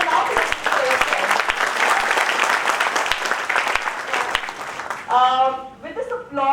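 Audience applause at an HR career talk for institute students fills the hall with dense, sustained clapping from many hands, then a speaker's voice comes in as the clapping fades near the end.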